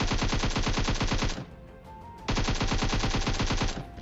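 Automatic gunfire in PUBG Mobile, a loud rapid burst of shots, a short pause with a faint tone, then another sustained rapid burst.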